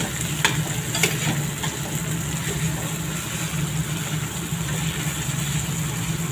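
Garlic, onion and tomato sauté together in a hot pan, giving a steady close sizzle with a few stirring clicks near the start.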